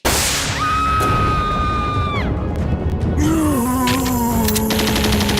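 Gunfire in a zombie standoff comes in a dense, continuous stream, with sweeping whistling tones rising and falling over the constant noisy barrage throughout.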